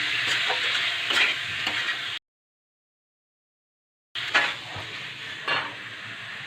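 Chicken gizzard and liver being stir-fried in a pan with salt, giving a steady close sizzle broken by scraping stirs and light utensil clinks, cut by a two-second silent gap before the frying resumes.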